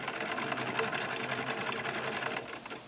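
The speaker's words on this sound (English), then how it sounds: "I am just sewing along the edge of the fabric, keeping my needle as close to the folded edge as possible" A sewing machine stitches close along the folded edge of fabric for a face mask, a steady, fast, even whirring hum heard up close without pause.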